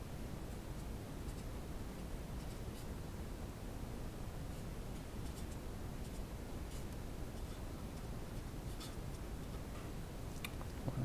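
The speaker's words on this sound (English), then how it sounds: "I can't write and talk at the same time." Handwriting on a surface during a physics lecture, with faint, steady scratching strokes under a constant low hiss and no talking.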